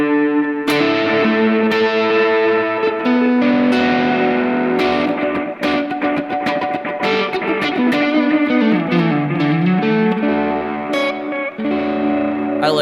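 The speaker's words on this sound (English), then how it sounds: "Having the Thermae on with a larger reverb is kind of just turning down the mix a little bit is a vibe" Electric guitar played through a Thermae delay pedal with a large reverb, sustained chords and lead notes ringing into loud, wide echo repeats and a washy tail, steady and alone.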